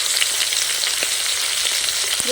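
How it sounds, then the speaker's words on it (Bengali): Potato and eggplant pieces fry in hot oil, a dense, continuous close-up sizzle with scattered small pops and crackles, no voices. "আলু আর বেগুনগুলো ভেজে নেবে"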